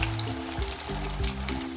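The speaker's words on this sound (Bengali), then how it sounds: "আগের মতন করে এইগুলো আমি ভেজে নিব।" Bread-wrapped potato rolls fry in hot oil, giving a steady close sizzle with crackling bubbling throughout, no voices.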